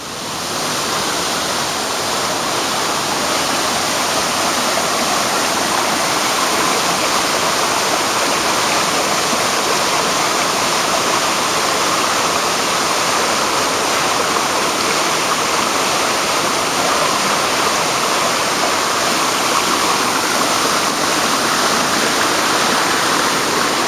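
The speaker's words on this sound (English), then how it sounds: "We're in the midst of the waterfall now and getting a bit wet." Queen Mary Falls roars as a steady, loud rush of water close by, a continuous wash of spray and falling water with no break and no talk over it.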